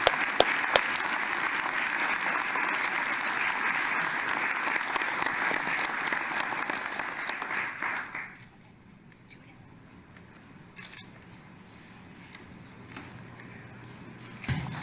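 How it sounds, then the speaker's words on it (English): Applause from a studio audience during a reaction to Jaylen Brown's contract-extension press conference: steady, dense clapping for about eight seconds, then it drops away abruptly to a quiet room with faint murmuring. "Round of applause, man."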